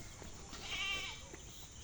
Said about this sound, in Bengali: এই ছাগলটা আপনাদের একটু দেখায়